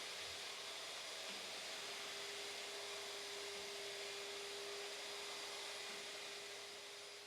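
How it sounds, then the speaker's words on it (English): A professional wet and dry vacuum cleaner running over a floor during stripping work, a steady broadband whooshing roar with a constant motor whine, continuous throughout and cutting off at the end. "For this purpose, use a professional wet and dry vacuum cleaner or a premium F2. Carefully vacuum the entire area."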